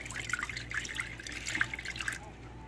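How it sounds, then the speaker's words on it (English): Vinegar, about a cup, is poured into a crock pot for cleaning, a soft close splashing and trickling with small irregular drips, faint and brief. "I put about a cup in there"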